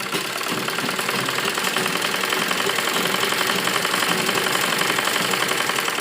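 A sewing machine stitches the side seams of a frock in a steady, loud mechanical chatter that runs continuously, close by, with no pauses.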